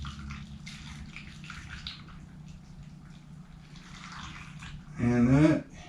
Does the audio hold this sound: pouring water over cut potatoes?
yes